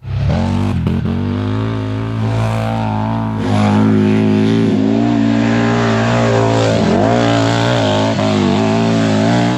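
A loud CFMOTO side-by-side UTV engine with an aftermarket GGB exhaust revs steadily with a throaty exhaust rumble, pitch rising and falling through several throttle blips, close by and continuous.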